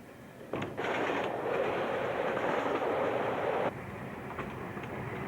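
A train rumbles past on the rails, a loud steady roar that swells in, holds for a few seconds, then drops back to a lower rolling noise.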